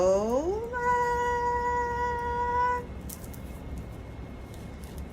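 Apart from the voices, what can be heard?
cat meowing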